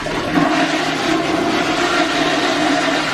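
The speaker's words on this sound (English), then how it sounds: "And it just flushes." An old-fashioned toilet aboard the Queen Mary flushes via a wall-mounted flusher, a loud, steady rushing of water running continuously, close and without talk.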